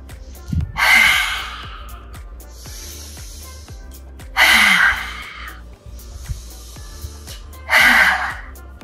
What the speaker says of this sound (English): Inhale and exhale, bringing your tongue out.